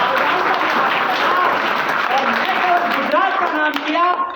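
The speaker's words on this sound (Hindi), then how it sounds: "मैं जोरदार तालियां रविंद्र जडेजा के लिए बजवाना चाहता हूं" A large crowd at a motivational talk applauds loudly and continuously for cricketer Ravindra Jadeja, dense clapping with some cheering voices mixed in.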